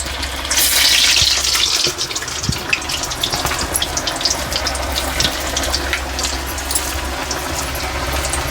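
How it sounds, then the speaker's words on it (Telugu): Onion bondas dropped into hot oil for deep frying give a loud, steady hiss and bubbling, with small pops and crackles scattered throughout. "ఇప్పుడు మనం డీప్ ఫ్రై చేద్దాం రండి"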